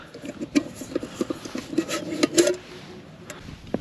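Metal camping cookware clinks and scrapes as pots and utensils are handled up close, with scattered light knocks and rubbing.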